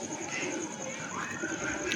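Domestic pigeons coo softly, faint and low beneath steady background hiss and a persistent high whine, without any clear talking.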